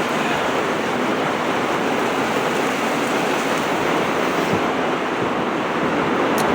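Heavy rain pours steadily onto the tin roof of a woodworking shop, a loud continuous roar with no voices.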